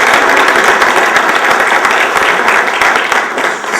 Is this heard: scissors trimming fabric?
no